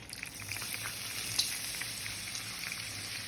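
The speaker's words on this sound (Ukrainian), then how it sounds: "Уже наше салко підсмажилось. Тепер додаю сюди моркву." Carrots going into pork fat that has already been fried down in a pan for buckwheat, giving a steady, moderately loud sizzle and crackle throughout, with no talking.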